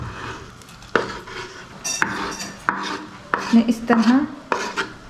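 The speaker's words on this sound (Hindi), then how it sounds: "अब चिकन को हम इसमें डाल देंगे।" Chicken goes into a pot of hot and sour soup with boiled vegetables, marked by a series of clinks and scrapes of a utensil against the pot, with a brief spoken phrase.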